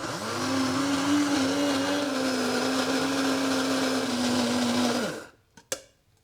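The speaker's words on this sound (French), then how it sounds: "Le jus d'un demi-citron. Et ensuite, je complète avec de l'huile d'olive. La petite pincée de sel. Et on va tout simplement mixer." A blender whirs loudly and steadily, mixing lemon juice, olive oil and a pinch of salt. The motor runs for about five seconds, then winds down and stops, followed by a couple of small knocks.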